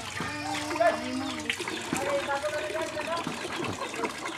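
Water splashing from a bucket bath outdoors in the Philippines, irregular sloshes and splatters close by, mixed with a voice and other people talking over it.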